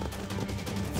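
Dense, fast gunfire in the video game Garry's Mod, a brief continuous burst of shots filling the whole moment with no speech.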